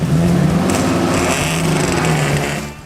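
A Toyota Troopy fitted with a 350 Chev V8 revs hard while stuck in a muddy bog hole, a loud, steady engine roar that holds throughout before easing slightly at the end.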